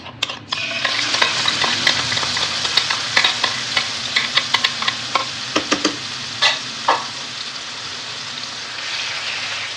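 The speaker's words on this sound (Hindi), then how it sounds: "अब जो हमने मैरिनेट करके रखा था चिकन को वो हम डाल देंगे पैन में" Marinated chicken fries in oil in a pan with a bright, close sizzle, broken by a run of sharp utensil clicks and scrapes as the pieces are stirred, then settling back to a steady hiss.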